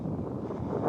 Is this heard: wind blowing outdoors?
yes